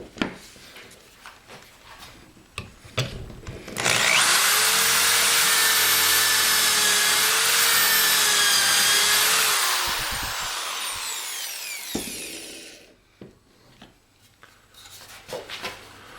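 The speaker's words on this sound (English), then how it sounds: "I'm going to drill a hole over here" A high-speed power drill whines loudly for several seconds as it bores pocket holes into wood with a Kreg jig, its pitch shifting slightly, with clicks and handling noises before and after.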